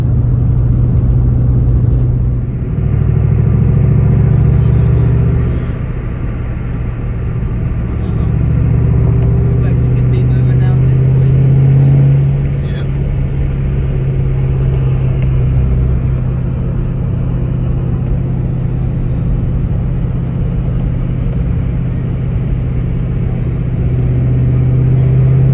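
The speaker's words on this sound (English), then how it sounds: "Mach 1 was just looking so good and sounding so good" A zinc yellow Ford Mustang Mach 1 engine rumbles steadily while driving, a continuous deep low drone with slight swells in intensity, close and fairly loud throughout.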